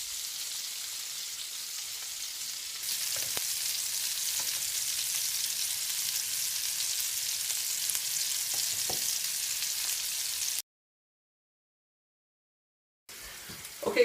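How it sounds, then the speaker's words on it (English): Meatballs sizzle and fry as they brown in a pan, a steady crackling hiss with a few clinks, stopping abruptly into silence before the sizzle briefly returns near the end. "we're going to get them all turned over, leave them to cook for about another 5 minutes"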